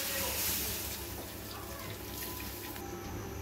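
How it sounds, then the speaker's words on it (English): Water poured from a vessel into a pan of fried drumsticks and spices, a broad rushing splash and gurgle that fades after a few seconds, close by. "Now I add some water."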